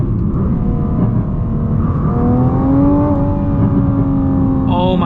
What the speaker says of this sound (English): you just get like just so much noise from the engine. It's just like a massive amount of induction noise